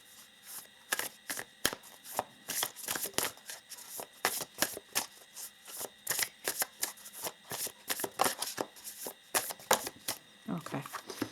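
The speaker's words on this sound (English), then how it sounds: "But let us pull some more oracle cards here." Oracle cards are shuffled by hand in a long run of crisp, rapid riffling and slapping bursts, close and fairly loud, ending with a brief soft voice.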